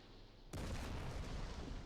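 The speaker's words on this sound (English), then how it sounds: "let's look at some of the mortars. They sound awesome, by the way." A mortar round explodes in a war video game running the RobZ Realism Mod, one sudden loud blast after a quiet moment, followed by a long, rumbling roar that holds steady to the end.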